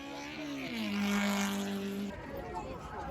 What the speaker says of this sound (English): Now let's go and watch some of the racing